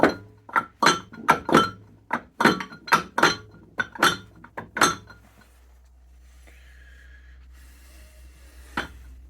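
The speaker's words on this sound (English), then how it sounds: "Again, just very gentle taps with the brass chisel." Brass chisel tapping gears off the splined spindle shaft of a Colchester Triumph 2000 lathe: about a dozen sharp metallic knocks in an uneven, quickening rhythm, close and fairly loud, then a quiet stretch with one last faint tap.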